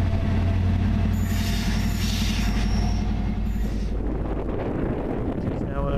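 A southbound train pulls into Berwick-upon-Tweed station, loud and close, with heavy low rumble, wheel squeal and wind buffeting the microphone before the noise eases as it slows.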